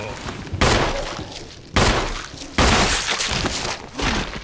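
Heavy gunshots boom in Resident Evil 1, three loud blasts spaced about a second apart, each followed by a ringing decay, with a player's voice faintly underneath.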